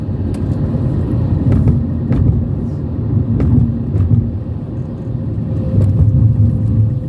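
A vehicle drives toward Pooppara town on a road in Kerala, its engine a steady close low rumble throughout, with a few faint clicks and knocks over the top.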